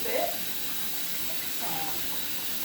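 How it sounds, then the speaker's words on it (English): Water from a kitchen tap runs steadily while hands are washed, a soft continuous hiss with a brief splash at the start and faint movement in the stream. "let me wash my hands off"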